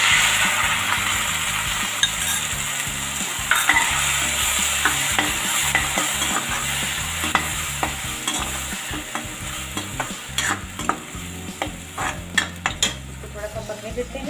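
Onion with tomato puree frying and being stirred in a pan, a constant sizzle under repeated scraping and clinking of a spoon against metal, with a brief spoken phrase.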